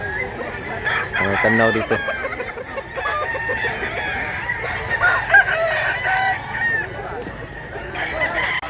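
Roosters crow and hens cluck across a busy chicken market where quality fowl are sold, several birds calling over one another at close and middle distance while people talk nearby.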